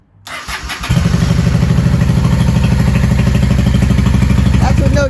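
A Honda Shadow 600 motorcycle engine cranks briefly, catches and settles into a loud, even, close idle without choke, running on a gas tank with soldered holes.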